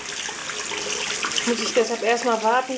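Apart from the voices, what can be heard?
bathroom tap running warm water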